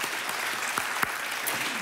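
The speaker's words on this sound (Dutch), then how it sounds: "ik wil u vragen een groot applaus te geven voor dit panel" Brief, steady burst of audience clapping for a panel at a symposium, a full room applauding evenly with a couple of sharper claps standing out.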